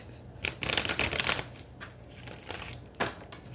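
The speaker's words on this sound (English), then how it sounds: "We're going to do 3 shuffles" Tarot deck being shuffled close up, quick papery riffles and slaps in a few short bursts over faint room hum.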